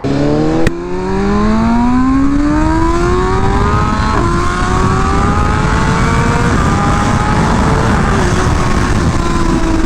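A BMW M1000RR motorcycle running on E85 fuel roars close and loud, its engine note climbing steadily through rising revs as it accelerates hard, with wind rush underneath and no talking.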